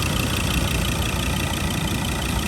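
A 2021 Ford Ranger FX4 with the 3.2 litre 5-cylinder engine idles close by, a dense, steady rumble with no change in pace and no talk.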